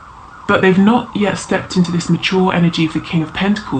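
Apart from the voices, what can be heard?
emergency vehicle sirens passing outside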